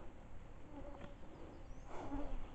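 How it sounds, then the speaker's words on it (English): Faint, steady insect buzzing from mosquitoes hovering close on a forest backpacking trail in Algonquin Park, under a soft outdoor hiss with no talking. "Damn mosquitoes."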